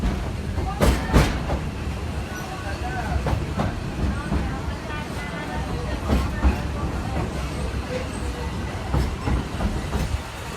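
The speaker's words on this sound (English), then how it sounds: "Runaway mine train, this Thunder Mountain Railroad" Thunder Mountain Railroad runaway mine train ride at Magic Kingdom rattles along with steady clickety-clack and rumbling, a few sharp clanks standing out, while crowd chatter murmurs faintly underneath.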